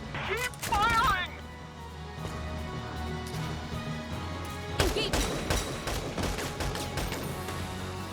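Gunfire rings out in the video game Valkyria Chronicles 4, bursts of rapid shots and explosive cracks mixed with game sound effects, while a person talks over the action.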